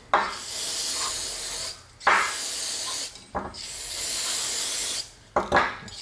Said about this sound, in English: I'm just gonna spray off the loose stuff here